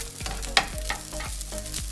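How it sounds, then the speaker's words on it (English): Vegetable and prawn fried rice is stir-fried in a hot pan, steady sizzling broken by rhythmic scraping strokes of a spatula and a sharp metallic clink, close and loud with no talk. "You need to stir and fry at the same time."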